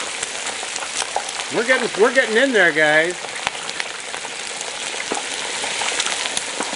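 Whole turkey lowered into hot frying oil, a steady broadband sizzle and bubbling running throughout, with a voice speaking briefly over it.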